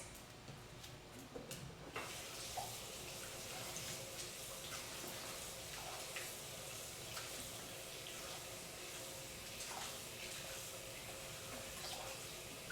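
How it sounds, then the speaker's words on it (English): Saltfish is rinsed under a running kitchen tap, a steady broad rush of water with splashes and a clatter near the start, fairly close and with no talk. "I think I'm gonna give it one more rinse."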